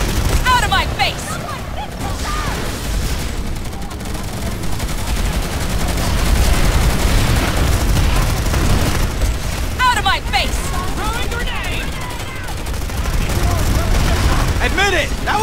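Heavy gunfire and explosions in Planetside 2 combat: sustained rattling automatic fire, booming blasts and ricochet whines surging in waves, with a player's voice talking over the battle noise.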